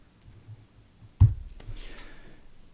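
Computer keyboard typing during a programming lab session, with a single sharp key click standing out clearly against faint background noise, followed by a soft fainter tail.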